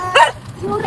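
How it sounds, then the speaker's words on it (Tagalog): A dog barks once, close and sharp, followed by a softer second yelp as the sound trails off. "Ingay masyado yung mga aso."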